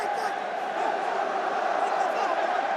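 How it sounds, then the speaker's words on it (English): Vocal crowd at a France vs Namibia Rugby World Cup match in Marseille, a steady, dense roar of many voices filling the stadium without a break, holding at an even loudness throughout. "Still such a vocal crowd here in the ancient city of Marseille"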